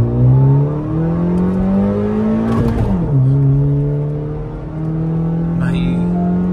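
A Hyundai i20 N-line and a Honda City accelerate side by side in a manual drag race from a rolling start, one engine droning loudly and rising in pitch through a gear change, close to the microphone and steady throughout.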